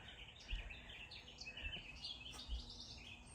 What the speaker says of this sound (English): And you can hear all the birds